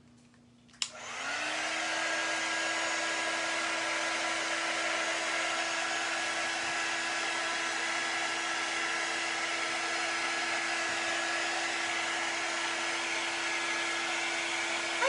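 A hair dryer switches on with a click and runs as a steady, loud, close whirring blow while drying permanent ink on glass, with no talking.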